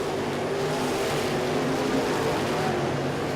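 Race cars at a nighttime dirt track winter nationals feature roar steadily past in a dense, continuous wash of engine noise, loud and unbroken throughout with no clear gaps between machines.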